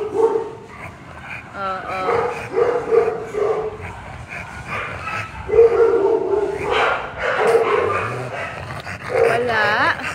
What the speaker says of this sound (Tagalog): Ayan, tumatahol na sila kasi alam nila,